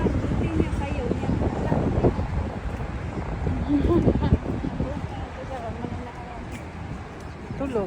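Strong wind buffets the microphone in rough, uneven gusts and roars, while people talk throughout.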